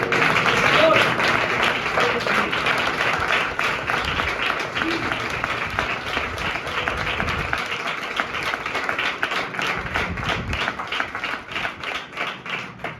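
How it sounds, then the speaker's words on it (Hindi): A church congregation at a Sunday sermon breaks into loud, close applause, many hands clapping in a steady dense patter that gradually thins and becomes more rhythmic toward the end. "ऐसे खुदावन के लिए जोरदार ताली।"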